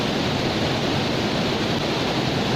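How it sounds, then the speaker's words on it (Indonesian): Steady, dense roar of a tall waterfall on the Lawe Dua falls near Kutacane, broadband rushing water filling the scene at close range with no voices. "kita udah nyampe ke air terjun kelima"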